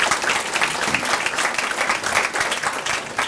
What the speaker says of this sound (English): So let's please give a round of applause for that.